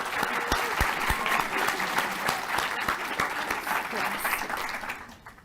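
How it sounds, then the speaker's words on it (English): A studio audience gives a round of applause for a show guest, loud continuous clapping with a few sharp individual claps standing out, fading toward the end. "a round of applause for my guest tonight"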